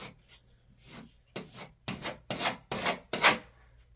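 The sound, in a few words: scraping textured plaster off closet walls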